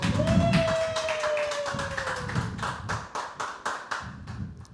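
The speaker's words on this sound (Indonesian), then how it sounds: "Tepuk tangan dong teman-teman." A small group at a youth church gathering claps, starting with a brief burst of hands and then settling into a rhythmic series of evenly spaced claps, with a faint tone and some murmuring underneath.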